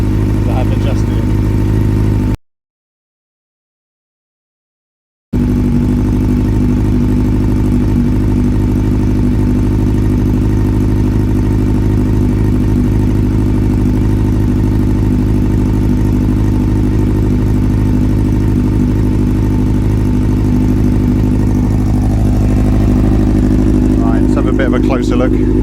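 A Honda CB400 Super Four motorcycle idles with a steady, close mechanical hum and a light clatter, broken by a brief gap, while someone talks over it.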